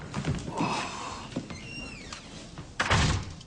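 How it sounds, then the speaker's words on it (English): An office door slides and thunks shut, with a squeak in the middle and a louder closing bump near the end. "Close the door."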